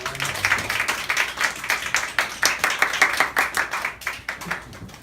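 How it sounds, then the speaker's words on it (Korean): A church congregation claps together in a quick, even rhythm, loud and close, with distinct repeated hand claps carrying on for about five seconds before tapering off. "한번 하나님께 영광의 박수를 드리겠습니다"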